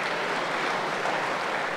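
An audience claps together in a dense, steady burst of applause, continuous and fairly loud throughout.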